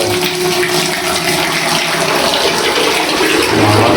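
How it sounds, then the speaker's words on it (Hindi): Water gushes steadily from a tap into a bucket, a loud, continuous splashing rush that holds throughout. "यो रहा पानी होने लग रहा है इसमें बाल्टी भरने लग रही है।"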